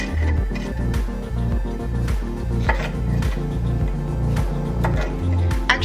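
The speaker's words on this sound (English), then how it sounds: "Probably just cut them up into smaller pieces." Food is cut into smaller pieces on a board, producing a quick, irregular series of close knife taps and light clatter with no talking.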